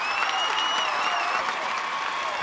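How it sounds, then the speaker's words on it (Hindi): Audience at an international Bhojpuri film awards show in Dubai applauding performer Chandan Sahu, a steady, dense wash of clapping from a large crowd throughout. "चंदन साहू के लिए एक जोरदार तालियां बजाइए दोस्तों"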